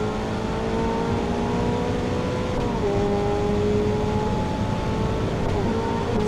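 A Novitec-tuned Ferrari F8 Tributo pulls hard on the German Autobahn, its engine droning loud and close as the pitch climbs in long steady sweeps with brief dips at the shifts, heard from inside the car.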